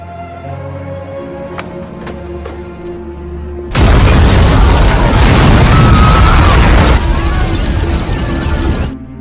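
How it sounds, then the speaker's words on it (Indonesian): A car explodes in an action film. A sudden, massive blast breaks a quiet stretch and becomes a loud, roaring rumble of fire and debris for several seconds before easing slightly. "Mobil yang telah dikenakan oleh Robin tiba-tiba saja meledak dengan sangat dahsyat sekali."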